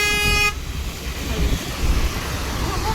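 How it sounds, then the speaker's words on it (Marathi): Heavy road traffic on a Pune street, with a loud car horn blaring at the start and then a dense, steady rumble of engines and passing vehicles. "लयच ट्रॅफिक आहे बाबा"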